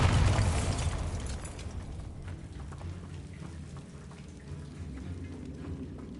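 A Bombarda spell blast in Hogwarts Legacy bursts loudly with a deep boom, then trails into crackling debris and rumbling rubble that fades over several seconds.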